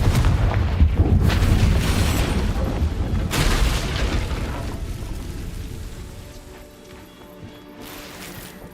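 Confringo fire spell exploding in the Hogwarts Legacy video game, a loud booming blast with a heavy rumbling burst at the start that slowly fades into a dwindling crackle.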